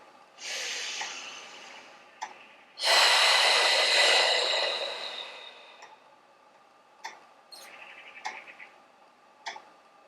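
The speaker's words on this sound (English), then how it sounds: "take 2 long deep breaths here" During a lying leg stretch with the knee extended and foot flexed, a person takes two long deep breaths close to the microphone, a breathy inhale then a louder, longer exhale, followed by a few faint clicks.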